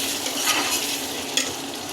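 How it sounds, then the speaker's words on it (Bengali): Ginger, cumin and onion-garlic paste sizzle steadily in a hot pan for a duck curry, with a utensil scraping and stirring through them. The sound is close and continuous, with a couple of sharper scrapes and no voices. "এখন দিব এই যে আদা জিরা দিয়ে এগুলো একটু ভালো করে ভেজে নিব"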